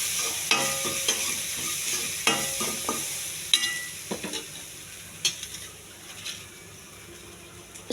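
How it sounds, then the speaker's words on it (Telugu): Raw banana pieces being stirred with turmeric in a frying pan, giving a steady background sizzle broken by a series of utensil scrapes and taps against the pan. "పసుపు అంతా కలవాలి."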